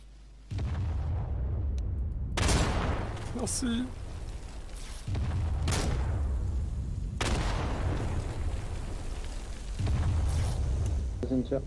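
Heavy explosive booms from a three-round high-explosive artillery salvo in a World War I military roleplay game in Garry's Mod, several blasts with rumbling tails, while a voice talks briefly over them in French.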